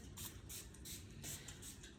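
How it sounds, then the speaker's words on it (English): Quick hissing bursts from a small spray bottle, about six short sprays in a loose rhythm, close and quiet. "I got this little spray right here"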